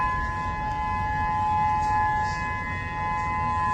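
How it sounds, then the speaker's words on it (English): A steady, unwavering Hawaiian tsunami warning siren tone rings out across the countryside, sustained and fairly distant over faint background rumble. "these Hawaiian tsunami sirens going off, and you can hear them just ringing out across the countryside"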